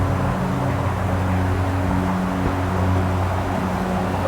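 Steady road traffic from a road out front of Robinson Woods, a constant low rumbling drone with a faint engine hum that stays even throughout, heard from a distance with no voices.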